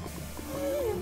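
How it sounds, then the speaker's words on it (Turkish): Donkey braying in the Minecraft video game, a single drawn-out tonal bray rising and falling midway through, fairly close over low game ambience with no talk. "La bunlar nereden anırıyor hala?"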